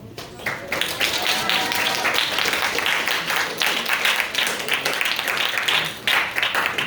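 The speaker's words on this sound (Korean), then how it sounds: "크게 박수 쳐주십시오" A congregation at a church special worship service claps in a lively, uneven burst of applause during a certificate presentation, with voices speaking over the clapping.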